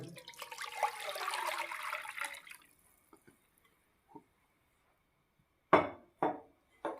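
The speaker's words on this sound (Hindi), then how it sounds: "ये देखें, मैं दूध डाल रहा हूँ इसमें" Milk poured into a cooking pot for carrot khoya barfi makes a soft, steady splashing stream for about two and a half seconds, then stops; a few faint drips and three sharp clinks from the pot follow, close up.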